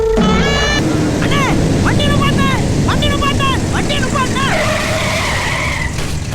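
A car brakes hard in a film scene, its tyres shrieking in a loud run of wavering squeals over rumbling road noise before the squeal settles into one long sustained tone near the end.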